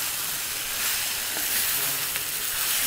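Boiled drumsticks and kabuli chickpeas sizzle in a pan for a traditional curry, a continuous close frying hiss with a few faint stirring clicks, and no talking.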